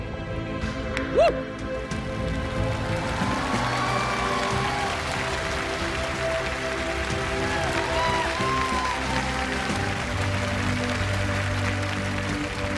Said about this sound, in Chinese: 再次掌声感谢我们的裁判